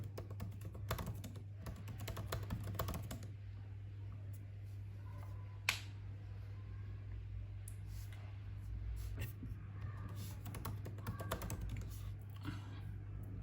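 Keys tap on a laptop computer keyboard as a password is entered while setting up Linux on a MacBook Pro M1, quick light clicks in short bursts over a steady low hum.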